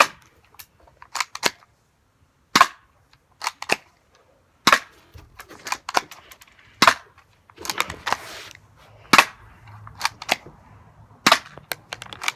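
A G1 airsoft gun firing black BBs, giving sharp, loud snapping shots one at a time at irregular intervals, with brief soft handling noise between shots.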